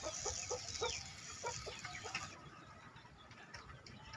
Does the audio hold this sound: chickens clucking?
yes